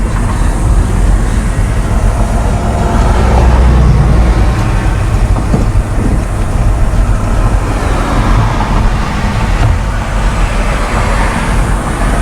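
A 1964 Ford Falcon convertible on the move, its engine and road rumble forming a loud, steady wash of broadband noise throughout with no talking.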